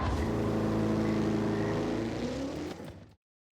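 A Roadster Shop Road Rage Camaro in a racing video game finishes a lap with a loud, steady engine roar that holds a constant pitch, then fades away and cuts to silence after about three seconds.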